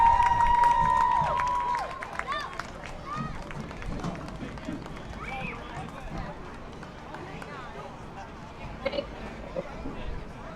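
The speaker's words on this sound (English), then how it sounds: "Y'all make sure y'all give them a round of applause." Crowd at a youth football game, the West Volusia Little Hatters at the Titusville Terriers, applauding and cheering a homecoming king and queen, louder at first and then settling into steady clapping and chatter.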